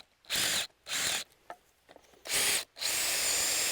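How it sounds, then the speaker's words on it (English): A power drill pre-drills a wooden batten for mounting a barn owl nest box to a tree, with four loud bursts of whirring separated by short pauses, the last one running longer. "first things first is to pre-drill this wooden batten"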